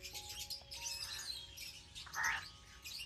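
Small birds chirp and tweet in an aviary at Kankaria Lake in Ahmedabad, a busy scatter of faint, high calls with one brighter burst near the end.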